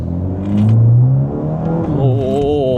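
A tuned car pulling away in drive, its engine note rising and climbing steadily in pitch over a low rumble as it accelerates, heard close from inside the cabin with no speech.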